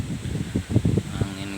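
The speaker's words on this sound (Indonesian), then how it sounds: "anginnya kencang banget" Strong wind rushes steadily ahead of a heavy rainstorm under dark clouds, with gusty swells through the middle and no voices over it.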